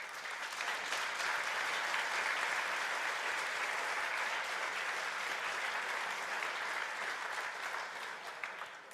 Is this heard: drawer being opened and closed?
no